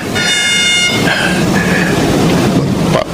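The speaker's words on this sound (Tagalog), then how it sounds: "parating yung tren." Train approaching on rails with a loud multi-tone horn blast at the start, followed by steady rumbling and clatter of rolling cars in a radio drama sound effect.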